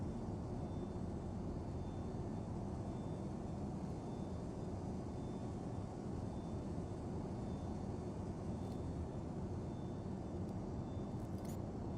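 Steady, unchanging drone of a Boeing 727's engines in cruise, heard in a flight simulator during a FedEx cargo flight, a low broadband rumble with no pauses, fairly faint and constant throughout.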